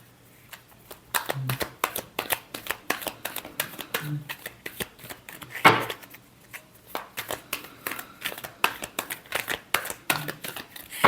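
Tarot cards being shuffled by hand, a long run of rapid crisp riffling flicks in uneven bursts, close and clear, with a voice speaking briefly partway through.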